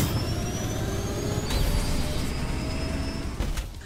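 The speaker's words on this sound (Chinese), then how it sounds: "最后是摩托车，本作最酷的设计之一" A motorcycle engine drones steadily in Ghostrunner 2 during a high-speed ride, a dense, loud whine with rising tonal sweeps and a sharp whoosh midway.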